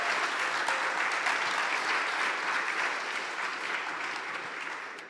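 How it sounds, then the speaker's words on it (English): Steady, dense audience applause at a startup demo day, a full crowd clapping evenly for about five seconds and tapering slightly at the end. "Let's have a clap for"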